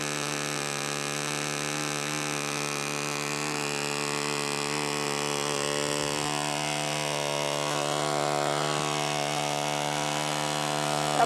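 A model airplane engine with a restrictive muffler runs steadily at a flying field, a loud, sustained buzzing whine with strong harmonics that shifts slightly in pitch near the end.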